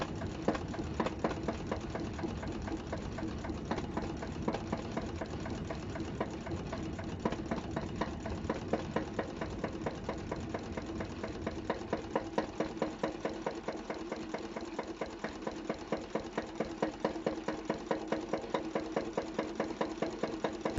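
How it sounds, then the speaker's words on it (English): A Deutz MAH 914 diesel engine runs at slow revs with a steady, rhythmic diesel knock. The sound is continuous and even throughout, with no voices. "Its slow revving operation and characteristic diesel knock became a familiar sound on farms and work sites across Europe."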